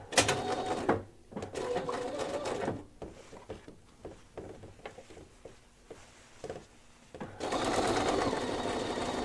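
A sewing machine stitches a padded laptop case, its motor buzzing in two sustained runs at the start and end with quieter rustling and handling of the fabric between them.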